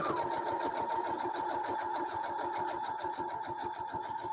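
Sewing machine running steadily while stitching an art quilt, its fast even needle rhythm continuing without pause, close and fairly loud throughout.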